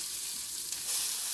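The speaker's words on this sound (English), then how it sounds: "You like to hear that sizzle?" Meat frying in a hot pan on a home stove gives a steady, close, bright sizzling hiss that swells slightly near the end, with no talking.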